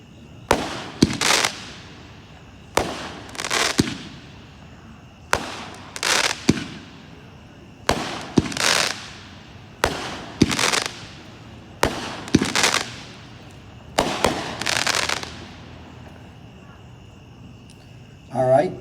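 An aerial firework cake fires eight shots at a grand public fireworks show in Andover, Kansas, each a sharp launch thump followed by a crackling burst overhead, paired and evenly spaced, with insects chirping steadily in the night background.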